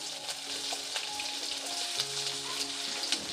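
Onions frying in hot oil with garlic for a Tamil garlic curry: a steady close sizzle and crackle with fine spitting pops throughout, no talk.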